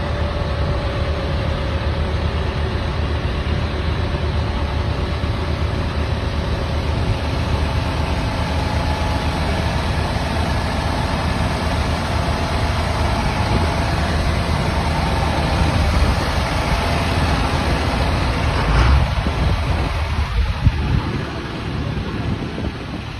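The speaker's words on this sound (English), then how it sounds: "Lines of tractors out on the road" Heavy farm tractor engines idle and rumble in a steady, loud low drone as lines of tractors move along a road during a Quebec farmers' protest, with a slight swell near the end.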